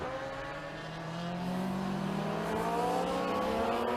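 Superstock racing motorcycles, a BMW among them, scream around the Sepang circuit, engine whine rising steadily in pitch and growing louder as the bikes close in.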